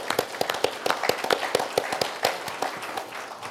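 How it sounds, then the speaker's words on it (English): A small audience claps at a panel event, with sharp, distinct hand claps in an uneven rhythm that sound moderately close and carry on steadily for a few seconds. "Can I clap for that?"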